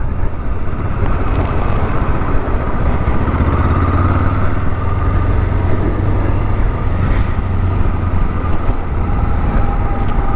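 Steady loud engine drone and heavy wind rush while a 2019 Honda Rebel 500 cruiser motorcycle is ridden, continuous and unbroken with a low engine hum under buffeting microphone wind, no talking.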